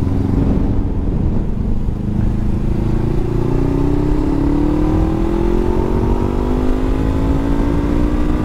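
A Honda CB500 F roadster motorcycle engine runs loudly close by, its tone rising steadily as it revs up and accelerates.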